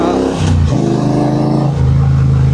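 A Triumph Bobber 1200cc motorcycle engine revs hard and climbs through the gears while overtaking a truck, loud and close, with steady wind rush behind it.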